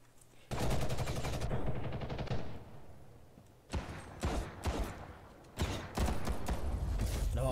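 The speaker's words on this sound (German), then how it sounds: "Das ist ein MG." Machine gun fire in the online shooter Ghost in the Shell First Assault: long sustained bursts of rapid, loud automatic shots, starting abruptly, pausing briefly, then resuming in several more close, punchy volleys.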